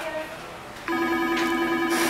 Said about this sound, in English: I can't get the phone.